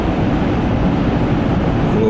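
A semi truck roars through a highway tunnel ahead, giving a dense, steady, close-sounding rumble and road noise with no breaks.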